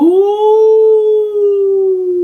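A single long wolf-like howl from a voice imitating a wolf, sung by the audience at a London Symphony Orchestra concert for under-fives, rising slightly and held steadily for about two seconds, loud and clear.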